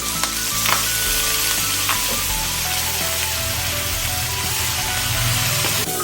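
Loud, steady sizzling and crackling as sliced banana peppers and eggplant fry in a hot pan, with occasional clinks of a utensil stirring.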